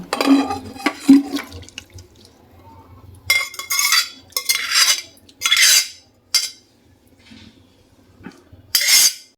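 Boiled vegetables and beans for Gujarati undhiyu are scooped out into a wide iron pan (loyu), making several short, close bursts of wet sliding and clattering utensil scrapes separated by brief quiet gaps.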